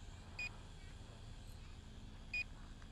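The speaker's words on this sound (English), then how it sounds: "The beeping you're hearing is the fact that I'm recording." Two short electronic recording beeps from a Promark VR drone camera, about two seconds apart, thin and high-pitched, over a steady low background hum.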